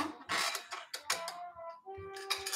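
Small articulated arm holding a camera creaking as it is moved, a series of scraping squeaks and groans with rising and falling pitch, close and fairly loud, no talking.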